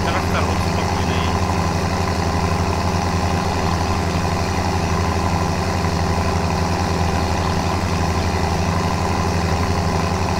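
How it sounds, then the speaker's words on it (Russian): A tractor engine in the BeamNG driving game churns through swampy mud, a loud, steady droning hum that holds unchanged for the whole span without a break. "Трактор вот спокойно едет."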